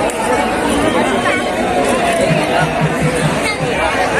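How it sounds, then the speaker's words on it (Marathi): Dense crowd chatter and hubbub fill the air at the Faizpur fair in Jalgaon, Maharashtra, a steady, close wash of many overlapping voices with no pauses throughout. "गर्दी बघू शकता तुम्ही गर्दी गर्दी गर्दी गर्दी बघू शकता"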